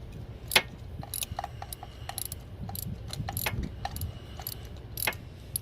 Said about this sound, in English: Spin it out, never use a gun. Too much pressure. Do it with a regular ratchet.